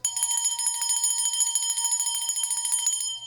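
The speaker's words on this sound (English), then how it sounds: "I'm just going to ring the bell" A small bell is rung rapidly and repeatedly, a bright metallic ringing of many quick strikes that carry on for about three seconds, alone and fairly close.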